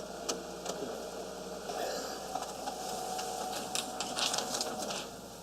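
An office printer runs steadily at moderate level, a continuous mechanical whir with soft clicks and brief rattling bursts, heard within room ambience and faint background murmur.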